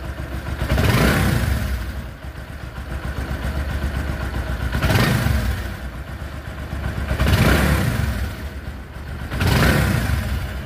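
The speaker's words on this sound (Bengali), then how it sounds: "মাত্র ইঞ্জিন স্টার্ট হয়ে গেল। তো সাউন্ডটা শুনুন," A freshly rebuilt motorcycle engine, once found with sand inside, runs loud and close with a steady mechanical clatter, revving up in four surges a few seconds apart.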